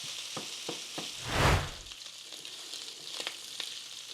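Sausage frying in a pan while being broken up, with a soft steady sizzle, a few light scraping taps and one louder swell of stirring midway; no talking.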